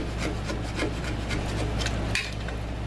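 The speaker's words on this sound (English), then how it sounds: "Scraping the good, grummy, stuck on, caked on stuff." A utensil scrapes stuck-on, caked browned bits from the bottom of a cooking pot while making homemade au jus, giving a steady close rasping rub that runs continuously with no talk.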